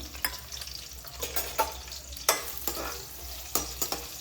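Onions sizzle in a hot pan for dhaba-style palak paneer, a steady frying hiss with repeated sharp scraping clatters as they are stirred, close and moderately loud with no talking.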